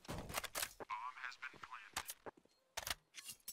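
Sharp bursts of rifle fire crackle from a professional Counter-Strike match between Imperial and Yawara at IEM Brazil qualifiers, several quick volleys separated by short gaps with faint game sounds between them.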